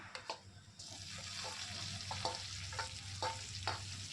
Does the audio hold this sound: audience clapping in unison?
no